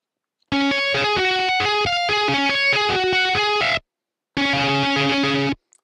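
A raw, buzzy synthesizer lead plays a melodic run of bright, harmonically rich notes, pauses briefly, then holds one more sustained phrase.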